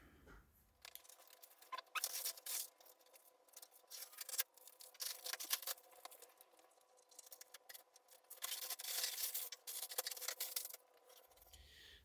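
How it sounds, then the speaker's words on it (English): Masking tape is peeled off in the engine bay of a 1967 VE Valiant, making faint, close, crackly ripping and rubbing sounds in uneven bursts with short quiet gaps between them. "I'll peel the tape off"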